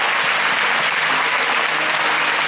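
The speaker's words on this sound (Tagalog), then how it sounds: "Mukhang mahina po yung palakpak niyo para sa Panginoon." A church congregation claps together in a steady, dense wash of applause that holds at an even loudness throughout, with no voices standing out.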